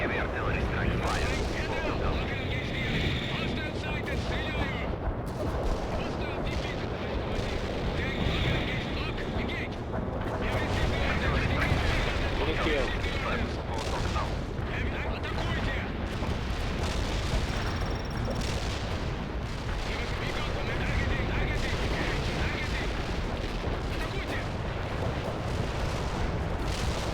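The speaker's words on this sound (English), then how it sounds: "Heavy artillery strike fire." A heavy artillery strike pounds a battlefield in World in Conflict, a continuous roar of booming blasts and rumbling explosions that fills the scene, with radio-style voices talking over the barrage.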